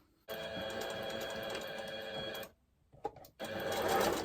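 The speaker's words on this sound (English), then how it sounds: "we're just going to turn this over and sew it down the other side" A sewing machine runs a long continuous stitching burst along a shopping bag seam, pauses briefly with a few faint clicks, then starts stitching again, loud and close with no voices.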